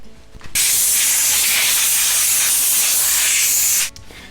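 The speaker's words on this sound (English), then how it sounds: "Then the compressed air will blow all of that out." A loud, steady blast of compressed air blows through a shotgun during cleaning, a close, continuous hiss lasting about three seconds that starts and stops abruptly.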